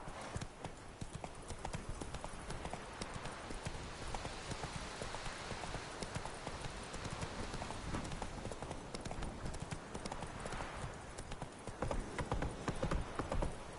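Roach, a horse in the video game The Witcher 3: Wild Hunt, galloping with rapid rhythmic clip-clop hoofbeats, fairly faint and continuous, quickening slightly near the end.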